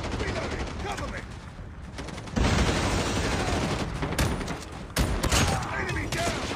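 Rapid gunfire from a Call of Duty match, with dense bursts of shots and loud blasts running throughout, jumping sharply louder around the two-and-a-half and five second marks.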